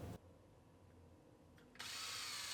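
A power drill bores pilot holes in a 2013 Buick Enclave subframe, a quiet steady whir that suddenly grows louder and harsher near the end as the bit bites into the metal.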